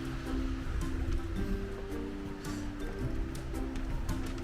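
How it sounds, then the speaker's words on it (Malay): A river flowing through an alpine village in Tyrol, Austria, a steady rushing wash of water under faint low rumbling and scattered rustles, moderately loud and continuous with no talk. "Ni sungai."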